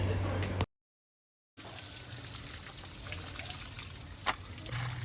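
Mackerel being washed in water with turmeric, a steady trickle and pour of water running throughout, briefly cut by a silent gap, with no talk.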